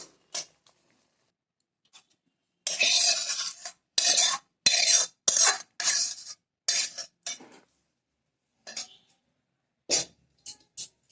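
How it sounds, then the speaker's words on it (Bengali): Amrul shak (sorrel leaf) chutney stirred in a pan, with intermittent scraping and clinking bursts of a spoon against metal, some clustered closely together and others spaced apart, near and fairly loud. "কিছুক্ষণ এভাবে নেড়ে চেড়ে তো কিছুক্ষণ নেড়ে চেড়ে এভাবে ঘন হয়ে এলে আমি নামিয়ে নেব"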